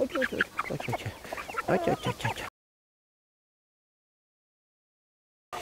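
A hen in a bucket clucks close by in a quick run of sharp, uneven clucks for about two seconds, then the sound stops.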